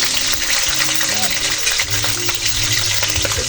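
Fish paksiw fries in a pan with a steady, loud sizzle and bubbling, with a person talking over it.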